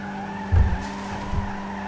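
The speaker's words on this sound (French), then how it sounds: "Je suis tout le temps en train de déraper." Tires of a Peugeot 406 in GTA 5 skid and squeal as the car accelerates hard, a sustained high tonal screech over a steady engine drone, with two brief heavier thumps along the way.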